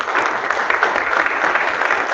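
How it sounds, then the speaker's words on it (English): Steady applause from the caucus members at a city Board of Alders meeting, dense continuous clapping that holds at an even level for the whole stretch with no voices. "Please give yourselves a round of applause."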